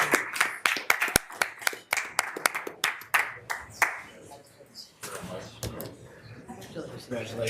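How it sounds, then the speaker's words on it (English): Audience applause for award recipients at a university board of regents meeting, sparse distinct claps in an irregular rhythm that thin out, followed by people talking. "How about one more round of applause for all of our awardees?"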